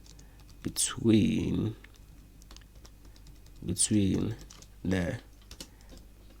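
Someone types a question to an AI chatbot on a computer keyboard, giving quick, light key clicks close by while someone talks over them.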